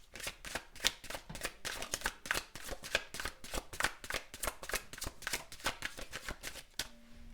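Oracle card deck being shuffled in a steady, rapid stream of crisp riffling and slapping cards, close and continuous, with no talking.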